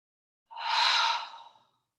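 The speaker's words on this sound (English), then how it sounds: "Take a deep breath in." One long, deep breath drawn in during a yoga flow class, a soft airy rush close to the mic that swells and fades over about a second, alone in silence.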